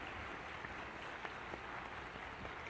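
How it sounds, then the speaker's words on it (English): Extended applause from a congregation at a church baptism service, a steady wash of many hands clapping at low level, heard at a distance with no talking. "when you see extended applause like this"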